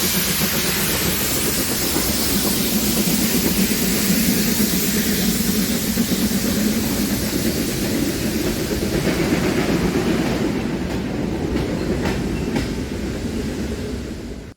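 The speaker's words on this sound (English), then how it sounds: "Ten minutes later, Stanley and Sir Cecil A. Cochrane pulled the freight back up the line." A pair of steam locomotives hauls a freight train uphill on the Tanfield Railway at a steam gala, a loud continuous rumble and clatter of the passing train that fades slightly toward the end.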